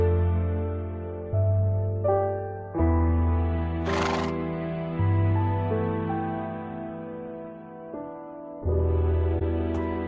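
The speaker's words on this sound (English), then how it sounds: "I can't control this horse." A horse in the Minecraft video game neighs repeatedly, loud whinnying calls in a steady series with short gaps, close and clear with no talk.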